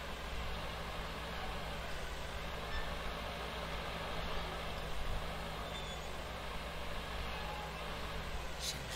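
Steady low engine drone of a hard-to-handle vehicle being driven in the survival game No Man's Land, a constant even rumble that runs unbroken and fairly quiet with no talk.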